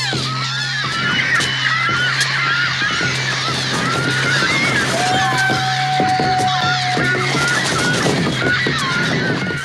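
A bird in a film calls with repeated harsh, honking cries over a dense outdoor background, loud and busy, with one sustained whistling tone partway through.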